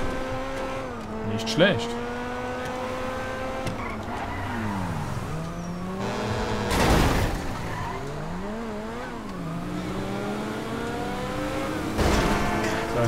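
A tuned Mercedes driving in Grand Theft Auto V: a loud, close engine whose pitch rises and falls through repeated gear shifts, with tire squeals and bursts of skidding, while someone talks over it.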